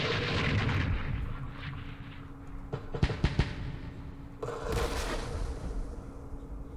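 Mortar fire in the Campaign Series Middle East wargame, Rebel Ridge scenario in Yemen, lands as a few sharp, close thuds around the middle, set against a steady rumbling battle background with no voices.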